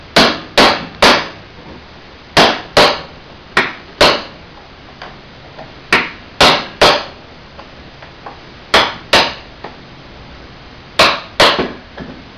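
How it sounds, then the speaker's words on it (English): Sharp metal hammer blows drive a chisel to break the solder seal on a General Electric X-ray machine head, landing in uneven bursts of two or three loud, close strikes with short pauses, no talking. "Use a smaller chisel on the end."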